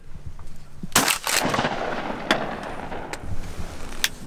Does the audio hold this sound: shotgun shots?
yes